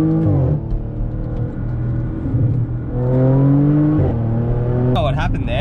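A tuned Stage 2 Audi S4 accelerates hard onto a highway from inside the cabin, the engine note climbing through repeated rising sweeps with gear changes, while someone talks over it.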